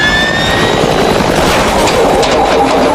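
A cartoon helicopter from Family Guy roars with a loud, steady whir of spinning rotor blades and engine noise throughout, with no talking over it.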